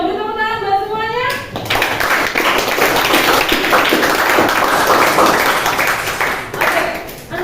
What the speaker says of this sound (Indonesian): Beri tepuk tangan buat semuanya.